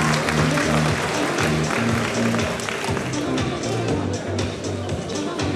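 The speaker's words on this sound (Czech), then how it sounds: "tak je ještě jednou velký potlesk." Applause and crowd noise fill an arena at a boxing event, with a steady dense roar of clapping and low hubbub, loud and continuous throughout, while an announcer's amplified voice sounds over it.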